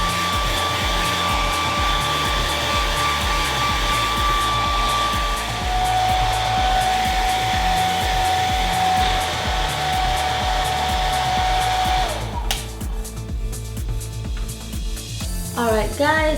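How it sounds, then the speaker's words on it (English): A handheld hair dryer blows a steady, loud whooshing hum while hair is dried, with a faint whine shifting pitch partway through and some rustling and handling noise near the end. "this is how I dry my hair"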